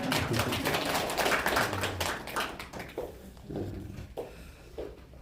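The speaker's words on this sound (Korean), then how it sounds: "박수 한번 해주세요" A church congregation claps during a Sunday worship service in Haenam, a burst of scattered hand claps and taps that thins out after a few seconds into a few isolated claps.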